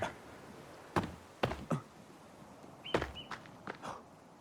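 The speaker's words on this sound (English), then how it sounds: "I don't know if you heard the trotting or galloping. That was a deer." Faint, irregular thuds of a deer's hooves trotting over ground near a river, scattered across a few seconds in a quiet outdoor setting, with a brief bird chirp in between.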